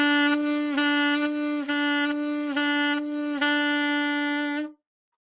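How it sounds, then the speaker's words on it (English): Saxophone playing one repeated note with half-tongue ghosting, the tongue resting on the reed, giving a steady buzzy tone with about five soft dips in rhythm before stopping, heard alone. "you would do something called a half tongue, which is you put your tongue over the reed"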